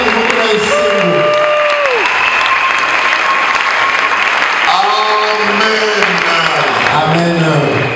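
A church congregation applauds and cheers continuously in a dense, steady roar, with sung or sustained voices rising above the clapping throughout.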